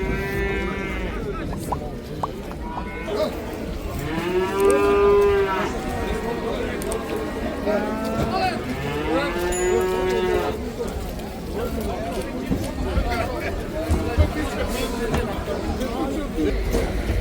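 Cattle and calves low repeatedly at the Karabulak livestock market, several long drawn-out moos rising over a constant hubbub of crowd chatter and people talking nearby.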